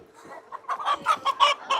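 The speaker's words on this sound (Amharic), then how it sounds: "አበሻ የሚባለው ዶሮ ነው።" Abesha, a local Ethiopian chicken breed, clucks in a series of short rhythmic calls at a busy market, moderately close and fairly quiet against faint background murmur.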